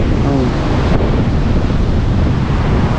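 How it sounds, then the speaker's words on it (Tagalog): Big ocean waves break and surge onto a beach where the undermining water has collapsed a small hut, producing a loud, continuous roar of surf with heavy wind buffeting the microphone. "yung alon sobrang laki"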